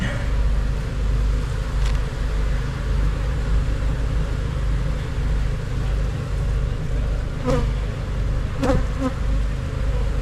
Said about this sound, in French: maintenant qu'il y a les abeilles, on peut taper un coup là-dessus